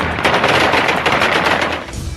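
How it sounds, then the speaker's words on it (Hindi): Celebratory aerial gunfire at Kabul airport, loud rapid bursts of automatic weapons fire rattling close and continuously for about two seconds before easing off. "तालिबानी आतंकियों ने काबुल एयरपोर्ट पर हवाई फायरिंग कर जीत का जश्न मनाया।"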